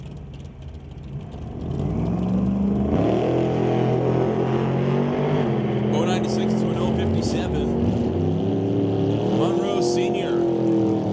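A 1931 Ford Model A hot rod and a 1966 Ford Mustang at a drag strip, engines roaring loudly and continuously with rising and falling revs as they launch and pull away, under a track announcer's voice.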